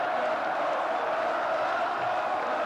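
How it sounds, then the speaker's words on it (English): Large crowd at the Seaburn Centre welcoming the Sunderland team home after the 1992 FA Cup Final, a steady continuous roar of cheering and applause, dense and unbroken throughout. "Tremendous applause for them."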